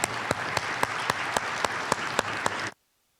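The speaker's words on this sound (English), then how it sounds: "if you could kindly join me in an applaud for the panel" An audience at the EU Arctic Forum applauds a panel: steady, dense clapping with a few sharper claps, fairly loud, ending abruptly after under three seconds.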